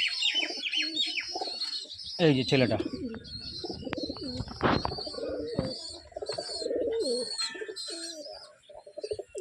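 Heavy Punjab Girabaz flying pigeons coo and chirp in short bursts around a loft, with someone talking intermittently nearby and occasional sharp louder calls.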